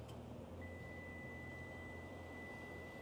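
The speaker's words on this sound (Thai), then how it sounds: "เมื่อเราถือกุญแจอยู่นะคะ และกดล็อก เสียงก็จะมีสัญญาณเตือนแบบนี้เลยนะคะ" A Toyota Yaris remote key lock alert: one faint, steady electronic beep tone that holds unbroken for over two seconds against a quiet low hum, with no talking.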